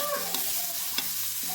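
A spoonful of black peppercorns sizzles in a pan of fried garlic as they are stirred, a close, continuous hiss broken by a couple of soft scraping clicks, with no talking.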